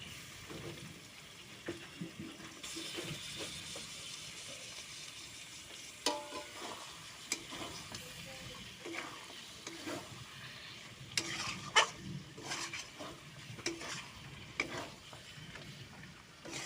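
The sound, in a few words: chicken pieces stirred and frying in spice masala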